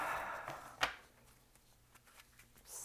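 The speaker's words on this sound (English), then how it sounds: "I'm going to start shuffling" Tarot cards being shuffled by hand, a faint papery riffle with one sharp snap of the deck and soft scattered flicks after it, quiet and close with no talk.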